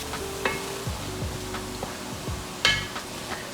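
Ground pork browning in hot oil in a pan, a steady low sizzle under repeated scraping and stirring strokes, with occasional utensil clinks against the pan, close up and moderately loud.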